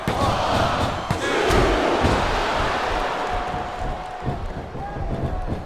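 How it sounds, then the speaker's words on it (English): A large arena crowd roars and cheers continuously in the video game WWE SmackDown vs. Raw 2007 on Xbox 360, a dense wash of voices with a few thuds underneath. "This superstar is all fired up. And so is this capacity crowd."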